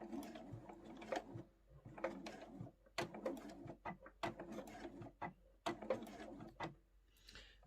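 Sewing machine stitching a seam on a large crossbody phone pouch, running in short bursts of rapid mechanical clatter with brief pauses, close and fairly quiet.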